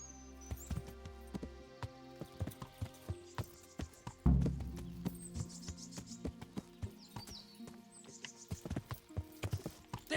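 Video game horse hooves clip-clop in a steady, even rhythm, close and crisp, with a brief heavier thud partway through.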